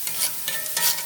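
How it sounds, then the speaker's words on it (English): Onions and vegetables sautéing in a cast iron pan, with a steady soft sizzle and the scrape of stirring rising in two short bursts, close and moderately loud with no talking. "You kind of saute your onions."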